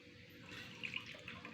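Water pouring into a blender while making soy milk, a soft, steady liquid trickle with a few brighter splashes, fairly faint and close, with no talking.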